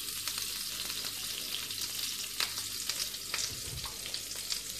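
Butter and a little oil sizzle steadily in a pan for a breakfast shakshuka, a soft continuous frying hiss with small crackles, heard alone without talk.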